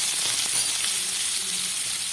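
Chopped garlic frying in a mix of oil and ghee for a dal tadka, giving a loud, close, continuous hiss and crackle that holds steady throughout with no voices.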